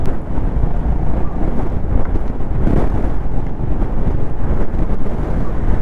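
Strong wind roars across the microphone on a monsoon motorcycle ride on a Honda Highness CB350 near Lonavala, a loud, continuous buffeting rush with no speech.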